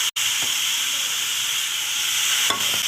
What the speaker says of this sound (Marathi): अशा प्रकारे टाकून झाल्यानंतर चांगल्या प्रकारे परतून घ्यायचं आहे